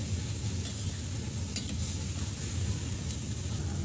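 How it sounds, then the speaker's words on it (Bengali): Onion and vegetables fry in mustard oil while being stirred, a dense continuous sizzle with a low rumbling undertone and occasional faint scrapes, heard alone. "পেঁয়াজ সামান্য সরিষার তেলে ভেজে কাঁচামরিচ দিয়ে দিব, তারপরে কেটে রাখা সবজিটা অ্যাড করে দিব"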